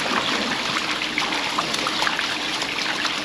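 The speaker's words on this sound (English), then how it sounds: "I take this plug out, and water comes out of there." Water drains steadily from a dairy farm tank after the plug is pulled, a continuous close, even rushing trickle with no talk.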